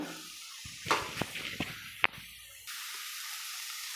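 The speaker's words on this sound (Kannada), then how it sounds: "ಅದಕ್ಕೆ ಸ್ವಲ್ಪ ನೀರು ಹಾಕ್ತಾಯಿದ್ದೀನಿ" A few clinks and taps, then water pours steadily into a pot of eggplant and potato curry with a soft, continuous splashing hiss.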